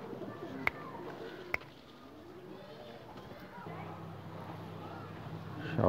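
A pair of Teddy pigeons coo softly, the low, faint calls running beneath someone speaking, with a couple of sharp clicks near the start.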